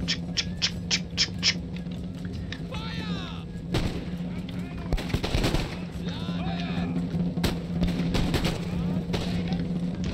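A Battle of Rossbach 1757 scene in Empire Total War brings a rapid string of musket volleys and heavy artillery booms, some sharp and close, others rumbling, while someone talks over the din.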